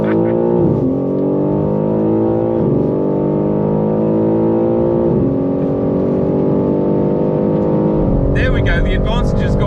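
BMW M3 G80 drag racing with launch control, its engine roaring loud and close as it launches and pulls hard through climbing gear changes. A brief shift burble comes near the end.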